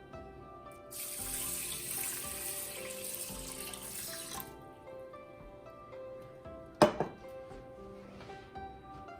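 Water runs steadily from a tap for a few seconds, then cuts off, followed by a sharp clatter nearby.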